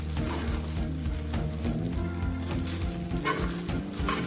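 Sabudana (tapioca pearls) is stir-fried in a pan, giving a dense, continuous sizzle with soft scraping stirs and a few faint clinks, loud and close with no voices.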